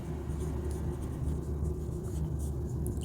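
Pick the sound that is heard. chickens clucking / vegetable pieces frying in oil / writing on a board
writing on a board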